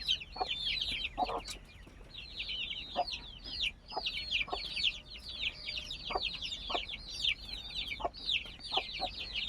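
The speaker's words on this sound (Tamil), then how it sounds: "ஒரு 30 கோழி குஞ்சு இருக்குங்க." A coop holding about thirty young chickens, kept shut in against dogs, fills with busy, overlapping peeping and clucking, steady and fairly close, with occasional sharper calls breaking through.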